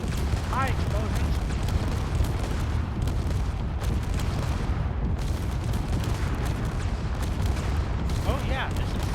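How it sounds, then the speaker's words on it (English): Rumbling explosions and booming blasts during a Borg encounter in a Star Trek space combat game, a dense, continuous barrage filling the whole stretch, with brief voices or chirps near the start and end. "Hi, explosions!"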